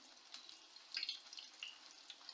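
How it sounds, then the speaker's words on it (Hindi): Strips of urad dal (mash) batter frying in hot oil over a high flame, a soft, faint sizzle with small bursts of crackle and spatter. "ऑयल हमारा अच्छी तरह गर्म हो चुका है। अब मैं इसमें डालती जाऊँगी दो दो तीन तीन करके पट्टियाँ"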